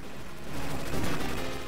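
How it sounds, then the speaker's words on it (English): Rapid machine gun fire from a player's aircraft in Capcom's 1943 arcade shoot-'em-up, a dense, continuous burst of game gunfire with explosion-like noise swelling louder midway through and staying steady to the end. "second is a machine gun, which I'm using right now"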